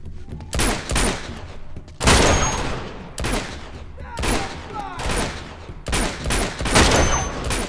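Rapid bursts of gunfire in a shootout in Uncharted 2: Among Thieves Remastered, loud and dense, several volleys overlapping one another with brief gaps between them.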